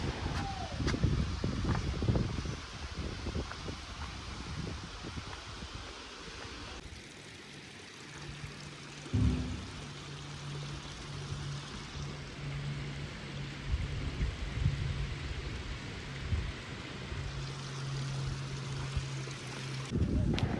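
Water flows over Mordhana Dam near Gudiyatham, Vellore, a steady broadband rush with wind buffeting the microphone, continuous and fairly distant throughout.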